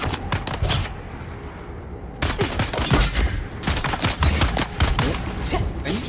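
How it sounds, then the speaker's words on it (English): Rapid gunfire in Dune Awakening, dense bursts of loud shots with a short pause, then sustained automatic fire resuming. "I need you to stop shooting me while I'm trying to kill your friend."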